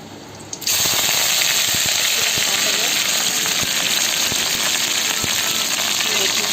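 Bay leaf and dried chili hitting hot oil for a Manipuri tadka, setting off a sudden loud, steady sizzle with crackling pops that keeps going unbroken, close by.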